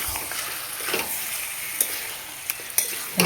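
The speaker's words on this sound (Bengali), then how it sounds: "চিকেনটাকে ভালো করে নাড়িয়ে চাড়িয়ে" Chicken pieces stirred in a hot pan of spices, a steady frying sizzle with a few sharp scraping clicks of the spoon near the end, close and clear with no voices.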